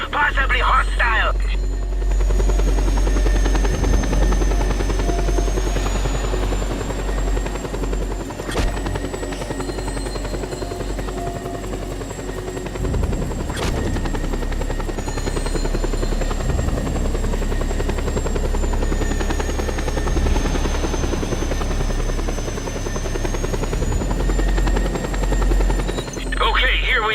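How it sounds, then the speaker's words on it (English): Helicopter in the video game Just Cause 2 approaches with a steady, loud rotor drone that persists throughout, with no voices over it. "We have an incoming unknown aircraft, possibly hostile."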